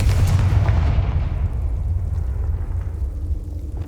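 A Confringo fire spell explodes in Hogwarts Legacy with a loud, deep boom at the start, then a long rumbling tail that slowly fades, heard alone without speech.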